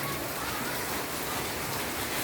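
Rain falling steadily, a dense, even hiss of drops with no breaks, fairly loud and close, with no talking over it.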